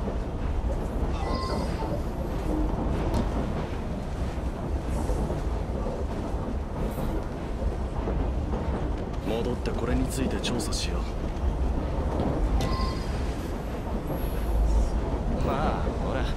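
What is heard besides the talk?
noisy train running in Assassin's Creed Syndicate video game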